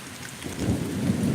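Deep thunder rumbles and swells through a severe thunderstorm in Pittsburg, Kansas, with rain falling steadily in the background and no voices.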